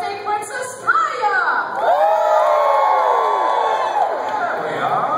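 A medieval-themed dinner-show audience, including children, bursts into loud cheering, whooping and shouting for a birthday announcement, rising after a brief voice and sustaining for several seconds.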